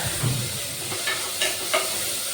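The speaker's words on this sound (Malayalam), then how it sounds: "ഞങ്ങൾ നല്ലോണം ഉള്ളി വാട്ടുന്നുണ്ട്" Onions sauté in a hot pan in a Kerala kitchen, a steady low sizzle with a few sharp scraping stirs of a spatula, close and continuous with no talk.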